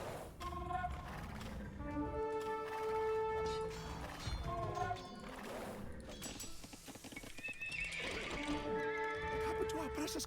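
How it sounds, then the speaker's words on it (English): Horses whinny over and over in Age of Empires 2, with repeated neighs layered above a steady game soundscape and faint hoofbeats. "Looks like these horses will have to do instead."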